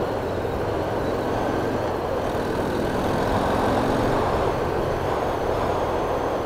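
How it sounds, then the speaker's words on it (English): A 2019 Harley-Davidson FXDR with the 114 V-twin engine runs in a steady, loud, continuous rumble with dense low-end roar and wind noise, holding constant throughout with no talking over it. "this 114 engine is a powerful torque monster."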